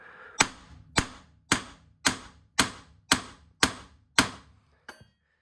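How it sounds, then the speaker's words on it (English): Eight evenly spaced sharp taps of a nylon-and-aluminium hammer on a Peugeot 205 GTI suspension strut, close and loud, followed by a fainter final tap. "with this hammer, which is nylon at one end and aluminium at the other"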